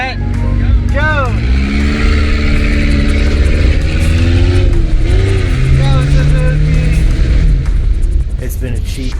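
A rear-wheel-drive car accelerates hard off the start of an informal race, its loud engine rising through several revving pitch sweeps and gear changes, very close and continuous, with voices faintly underneath.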